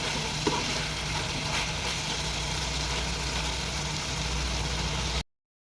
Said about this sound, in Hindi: 1 कप में इसमें शिमला मिर्च ऐड कर दूँगी और हल्का सा हम इसको जो पकाएंगे